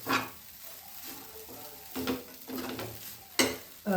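Poha upma being stirred in a pan, several separate scraping strokes of a spoon against the metal with a faint sizzle between them, close and alone.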